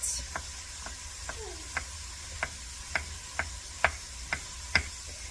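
A series of sharp knife taps on a cutting board, about ten evenly spaced chops in a quiet kitchen, close and clear, with no talking.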